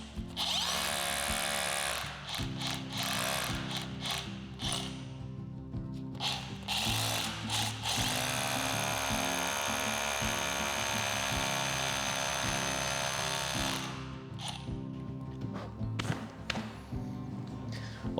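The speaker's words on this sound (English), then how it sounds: "Now we're going to come through with our bigger masonry bit and drill to the depth of our plug." A drill with a large masonry bit bores into a wall after a mantelpiece is removed, giving loud close grinding with pulsing whine and several brief pauses and restarts.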